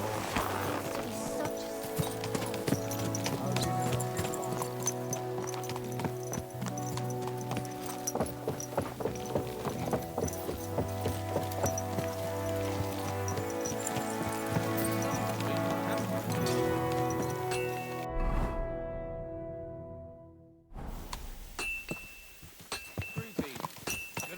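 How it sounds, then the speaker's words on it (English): Horse hooves clip-clop in Kingdom Come: Deliverance 2, a steady run of soft hoof beats mixed low under a continuous game music score, with a quieter moment near the end. "Easy, good horse."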